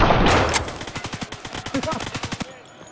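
Rapid bursts of SMG gunfire in a multiplayer arena shooter, the shots coming at a slowish, even cadence for about two seconds after a louder opening burst, close and prominent.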